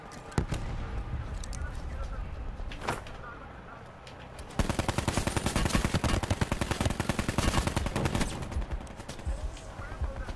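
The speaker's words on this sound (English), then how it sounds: "They're shooting at you guys." Enemy gunfire in Call of Duty Blackout: a few isolated shots, then a long rapid burst of automatic fire midway through, fairly close and loud, with players talking over it.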